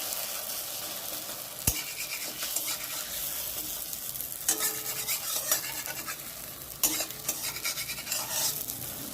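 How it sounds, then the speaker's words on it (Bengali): Bhabra snacks fry in a pan of oil over low to medium heat, giving a steady soft sizzle with occasional louder crackles and a sharp scrape of a spatula partway through, close and alone with no voices. "এখন উল্টে আর একটা পাশও ভেজে নিচ্ছি"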